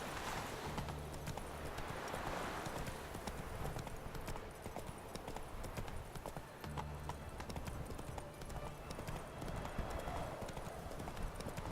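Roach, Geralt's horse in The Witcher 3, gallops with steady clip-clop hoofbeats and a brief whinny, loud and continuous under game ambience.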